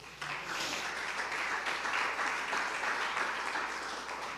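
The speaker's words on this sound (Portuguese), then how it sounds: "Aplauda o Senhor." A church congregation applauds during a sermon, giving steady, dense applause that holds at an even level for several seconds, moderately loud and somewhat distant in a large hall.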